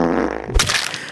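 A short, loud fart, a buzzy rippling blurt that ends in a sharp burst, heard alone and up close.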